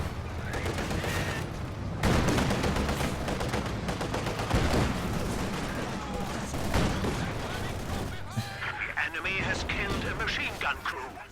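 Company of Heroes 2 PPSh submachine gun fire as Soviet conscripts charge forward: dense, continuous rattling bursts mixed with other battlefield gunfire and crashes, with a voice talking over the combat.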